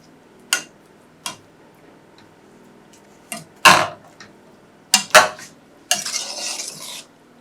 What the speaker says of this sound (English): So I'm going to give it a stir.